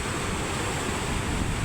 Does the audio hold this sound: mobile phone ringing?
no